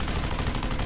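Loud, rapid automatic gunfire rattles without pause in the sci-fi shooter game Section 8: Prejudice, a brief, dense burst heard up close.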